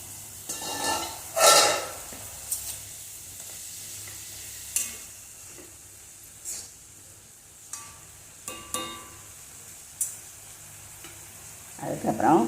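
A spiced mixture sautés quietly in a pan under a steady faint sizzle. A spoon scrapes and stirs it in short bursts every second or two.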